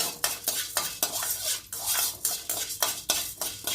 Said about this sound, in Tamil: இப்போ நல்லா செவக்க வறுத்தாச்சு